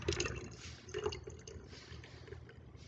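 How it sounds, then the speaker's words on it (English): Water pouring and gurgling into a bottle, a steady splashing trickle with a few bubbly bursts, close and moderately quiet. "Pour some more water in."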